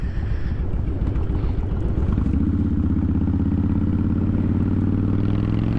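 Kawasaki Vulcan Classic motorcycle engine, carburetor freshly retuned, idling and then revving up outdoors on an early-morning ride; a steady, loud, close rumble rises into a smooth, even drone with no pops and some wind noise on the microphone.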